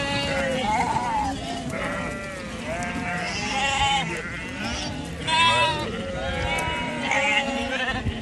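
A flock of sheep bleats repeatedly and loudly nearby, overlapping calls rising and falling over a farm field before a storm, with a person talking intermittently among them.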